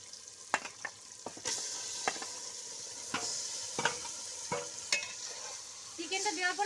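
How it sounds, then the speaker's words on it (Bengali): Marinated chicken fries with softened tomatoes in an aluminium handi, with a soft constant sizzle under a series of sharp scrapes and knocks as the mixture is stirred, ending in busier bubbling spatter. "এবার আমি ম্যারিনেট করা চিকেনটা দিয়ে দিচ্ছি।"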